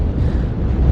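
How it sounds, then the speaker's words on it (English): Strong wind buffets the microphone on an open Ingleborough hillside, a steady, heavy low roar for the full second with no voices. "Very windy still."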